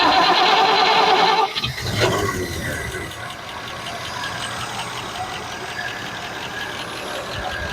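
A truck engine cranks and catches, then settles into a steady, rumbling idle that continues close by without interruption.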